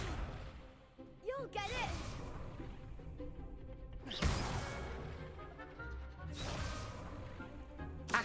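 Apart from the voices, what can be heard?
spell casting effects in Hogwarts Legacy video game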